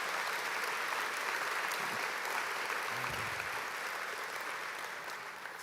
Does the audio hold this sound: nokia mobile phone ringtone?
no